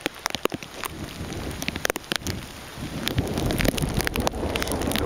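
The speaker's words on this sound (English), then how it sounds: "The wind's blowing pretty good." Rain and gusting wind during Hurricane Isaac in southern Alabama, steady rain hitting surfaces with sharp close drops and bursts of wind buffeting the microphone, growing denser toward the end.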